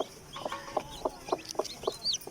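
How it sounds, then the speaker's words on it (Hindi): A desi hen of a good indigenous breed clucks repeatedly in short, evenly spaced bursts, close and clear, with faint higher chirps of chicks in the background. "ये देसी सील मुर्गी है"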